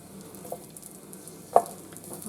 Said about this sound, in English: I'm now going to add 2 cloves of garlic that I have, this is sliced.